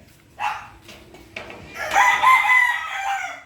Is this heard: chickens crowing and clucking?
yes